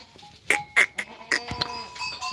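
Goats on a farm in Villar de Cardena, including young cardena nannies that are kidding, give several short nasal bleats in quick succession, close and fairly loud, with no talking.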